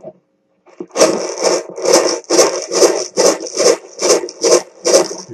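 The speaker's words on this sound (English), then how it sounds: "You can rub it across various textures, sandpaper, whatever." A homemade piezo harmonica microphone rubbed across a rough textured surface, giving about nine rhythmic, raspy scraping strokes like sawing, close and loud, with no talk.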